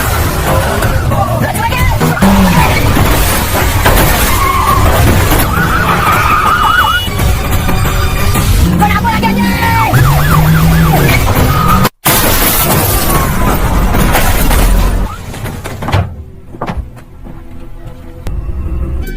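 A police car chase from the crime drama Sheriff: Narco Integrity, with wailing sirens, roaring engines, skidding tyres and a crash of shattering glass. The sound is loud and dense, with voices mixed in, then drops off near the end.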